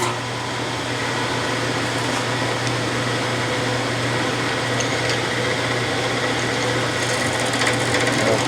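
A Myford 10 metal lathe runs at a steady pace in a home workshop, giving a constant, even mechanical hum and whir with a low drone underneath and no speech.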